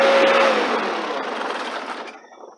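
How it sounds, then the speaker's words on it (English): A tractor engine is switched off while moving dirt behind a carport; a loud, close mechanical drone fades and winds down over about two seconds into near silence. "Let me turn the tractor off."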